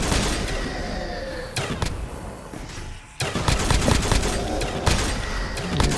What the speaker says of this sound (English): Alright, now shoot with your war machine.